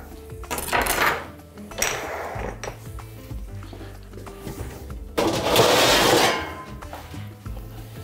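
Cut eggplant and zucchini tossed with sunflower oil are scraped and tipped into a metal oven tray, giving bursts of clattering metal and vegetable thuds in two louder bouts separated by quieter handling, close and without speech.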